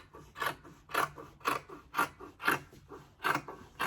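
Scissors cutting fabric for a Yoruba iro and buba outfit, giving a steady rhythmic series of about eight close, crisp snips roughly half a second apart.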